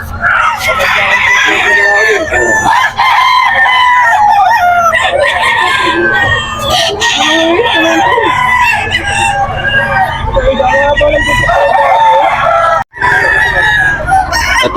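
Bullstag gamefowl roosters crow loudly and repeatedly at a busy pet market, overlapping with clucking birds and crowd voices talking nearby.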